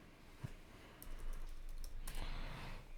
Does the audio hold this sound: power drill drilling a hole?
no